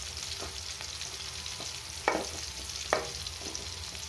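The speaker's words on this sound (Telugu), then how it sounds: "మధ్య మధ్యలో కలుపుతూ ఉండాలి మంచిగా వేగేదాకా" Bitter gourd frying in oil in a pan, a low continuous sizzle broken by a few scattered stirring scrapes, two of them sharper and louder, with no voices.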